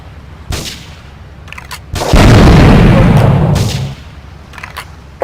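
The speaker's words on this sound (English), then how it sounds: "Investigate reported gunfire and explosions." Gunfire and explosions in the video game GTA 3 at Portland Harbor: sharp shots crack out, then a heavy booming blast rumbles for about two seconds before more scattered shots.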